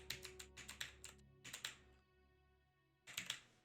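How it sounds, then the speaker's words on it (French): Clicky keys on a Razer BlackWidow Elite mechanical keyboard clatter in quick bursts, a flurry of sharp taps, a pause, another short run, then a final cluster, close and fairly loud with no talking. "je joue aussi avec un clavier Razer Black Widow, il me semble, Elite"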